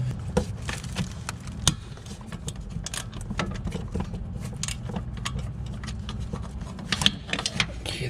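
A ratchet or wrench works 12 mm bolts off an intake manifold bracket on a Nissan Murano 3.5, giving irregular close metallic clicks and taps over a low background hum.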